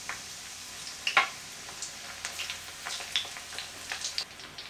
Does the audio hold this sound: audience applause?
no